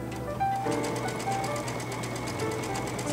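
A Brother sewing machine fitted with an SA157 cording foot stitches a decorative cross-stitch pattern, giving a steady, close, continuous mechanical hum and chatter with a rapid regular needle rhythm throughout, no voices.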